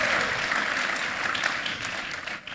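A church congregation at an evangelistic service in Ambon gives a big hand, dense steady applause filling the room without a break.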